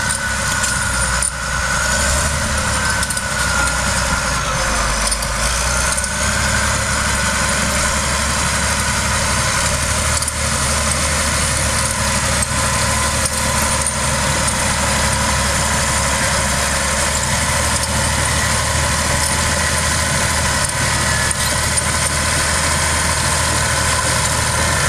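The engine of a 1995 Caterpillar D6H bulldozer idles with a steady, loud diesel rumble and some vibration for the whole stretch, with no one talking.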